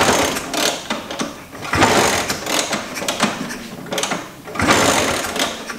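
A 1977 Vespa Super scooter's engine turning over during a start attempt, close and loud: repeated surging mechanical chugging bursts separated by short dips, with no speech.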